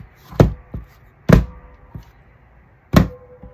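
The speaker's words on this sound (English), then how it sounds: "put this in here to punch the holes at the bottom" Three sharp mechanical thunks, each with a softer click after it, spaced irregularly in a quiet room, like a hole punch pressing through paper.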